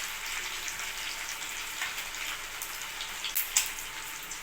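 Cumin seeds and dried red chilies sizzle in hot oil for tempering, a steady dense crackle with a few sharper pops near the end, close and continuous with no talking.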